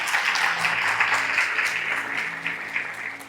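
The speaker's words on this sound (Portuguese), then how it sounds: "se é para aplaudir o Senhor, pode aplaudir com vontade" A church congregation claps during a sermon, producing a steady wash of applause with irregular claps over a faint low hum, gradually softening over about three seconds.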